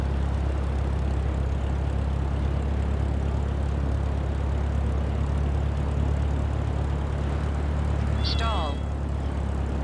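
Small propeller airplane in Microsoft Flight Simulator 2024 on a landing approach with flaps set, its steady engine drone loud and constant throughout, with a brief chirping cockpit alert near the end.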